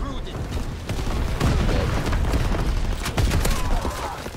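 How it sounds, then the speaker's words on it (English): Explosions from an incendiary firebombing run in Call of Duty WW2 roll as a dense, loud barrage of overlapping booms and crackling blasts, with a player talking over the din. "Incendiary mission commenced."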